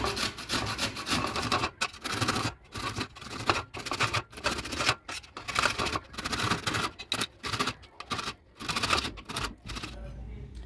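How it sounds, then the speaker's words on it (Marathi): Raw mango grated vertically on a hand grater, with loud rasping strokes repeating in an irregular back-and-forth rhythm and short pauses between them, close up throughout. "आता याला हे असं उभ्या साईडनं असं किसून घ्यायचं आहे आपल्याला."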